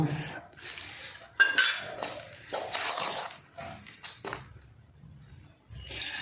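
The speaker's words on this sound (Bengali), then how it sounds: "নিয়ে অল্প অল্প করে জল দিয়ে ব্যাটারটা বানিয়ে নেব" Batter is mixed with water in a bowl, with clinking spoon-on-bowl contacts, wet stirring swishes and brief quiet gaps between bursts of mixing.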